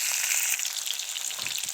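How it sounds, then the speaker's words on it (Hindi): Cauliflower florets frying in hot oil for an egg curry, a steady bright sizzle with faint crackles throughout, close and continuous with no voices. "इसी तरह मैं सब फूल गोभी ऐसे तेल में फ्राई कर"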